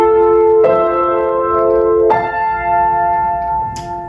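Piano sounding a third interval, two chords struck with sustained harmonic tones that ring and decay, plus a brief bright tap near the end, no talk.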